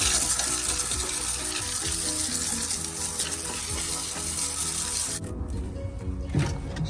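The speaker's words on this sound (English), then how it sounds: "I'd rather just rinse it off with the hose and see how it comes out." A garden hose rinses aircraft remover off a valve cover with a steady, loud rush of water spraying against metal. Near the end the flow cuts out, leaving dripping and splashing.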